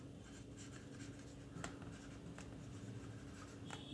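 Quiet scratching strokes of writing on a board during an engineering mechanics lecture come in short, irregular bursts over a low room hum, with no voice over them.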